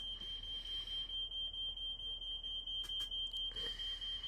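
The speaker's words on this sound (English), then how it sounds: "but then the smoke alarm just went off" A smoke alarm emits a steady, piercing high tone that persists throughout, with faint background noise and brief clicks.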